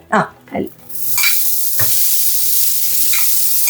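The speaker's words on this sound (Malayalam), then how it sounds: "തൽക്കാലം നാളികേരം മാത്രം വറുത്തെടുക്കാം." Grated coconut is dropped into a hot pan and roasted for kootucurry, a couple of loud stirring scrapes followed by a steady, close sizzle with occasional spatula knocks.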